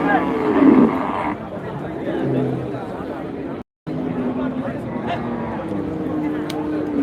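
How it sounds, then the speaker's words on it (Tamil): Cattle at the Manapparai cattle market, a loud outdoor crowd scene with steady murmur and shouting voices, occasional lowing mixed into the din, broken by a brief dropout near the middle. "இது மணப்பாறை மாட்டு சந்தை"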